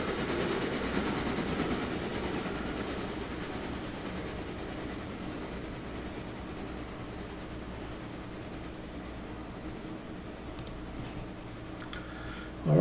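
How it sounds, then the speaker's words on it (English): A train in the Railroader video game rolls along the rails with a steady low rumble and faint clickety-clack, continuous and alone with no talk, ending in a short bump. "back to riding the train again"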